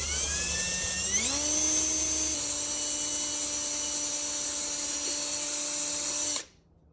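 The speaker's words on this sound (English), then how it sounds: "I'm drilling this hole because I'm gonna route a dropper post cable through it" Power drill boring a hole through a 2001 Kona bike frame for cable routing, a steady high whine that winds up in pitch near the start, holds loud and even for several seconds, then cuts off abruptly.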